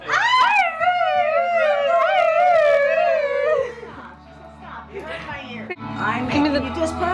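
A dog howls in a long, wavering drawn-out cry for several seconds, then gives shorter whimpering yips, close and loud, with people talking nearby.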